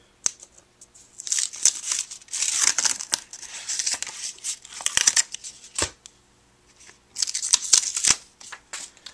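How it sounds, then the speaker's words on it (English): Paper is peeled off a Cricut cutting mat in several crisp bursts of crinkling and tearing, close up, with short quiet gaps between the pulls and no talking. "I'm going to go ahead and unload my paper on the mat"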